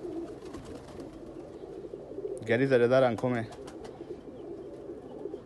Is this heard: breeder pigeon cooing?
yes